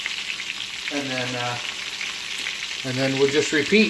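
Chicken francaise fries in butter in a pan, a steady broadband sizzle running the whole time under two short bursts of talk.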